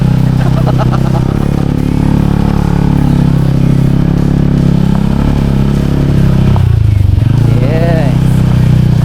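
A motorcycle engine drones steadily throughout while riding on a trail toward a coffee camp, loud and close with clattering and occasional revving, as people talk over it.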